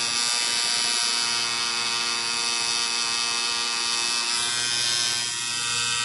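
Tattoo machine running a 7-needle outliner and 4-needle flat shader, a loud steady electric buzz with a constant pitch, close up and continuous, with slight shifts in tone as the needles work.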